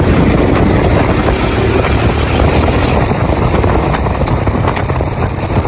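A loud, steady roar of a motorcycle engine blends with rushing wind and road noise while riding in the rain, continuous and close, without any break.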